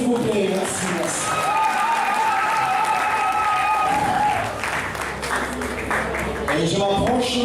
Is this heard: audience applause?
yes